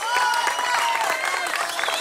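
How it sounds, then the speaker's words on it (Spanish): A family gathering's audience applauds a singer named Jen at a cultural event, steady dense clapping with cheering voices and whistle-like calls over it, fairly close and lively. "Un aplauso fuerte para Jen."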